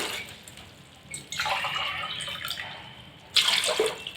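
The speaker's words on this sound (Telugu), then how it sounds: "ఇప్పుడు మనం వాటర్ యాడ్ చేద్దాం నేను ఇందులో two and half glass water వేస్తున్నాను" Water pours into a pressure cooker pot in a couple of gushes, with a hollow splashing rush and a brief pause in between.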